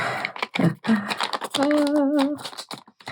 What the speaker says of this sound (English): I love the sound of coffee paper